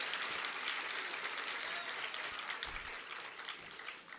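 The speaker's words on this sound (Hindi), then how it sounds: "एक आध ताली मत बजाया करो" An audience claps at a religious sermon by a Jain acharya at Tilwara Ghat, Jabalpur, in a steady, fairly soft wash of applause lasting the whole few seconds.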